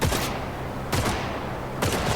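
Video-game gunfire from Cyberpunk 2077 in Night City comes as three loud, close bursts, each a sharp crack with a long rumbling tail, spaced about a second apart.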